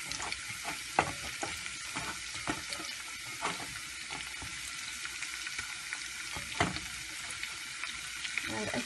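Marinated, already-cooked shrimp fry lightly in a pan for shrimp biryani, a steady close sizzle with intermittent scraping stir clicks and a few louder knocks, no one speaking.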